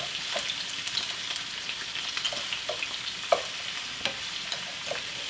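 Stir-frying in hot oil: a continuous bright sizzle broken by repeated scraping stirs of a utensil in the pan, close and fairly loud, with no talking.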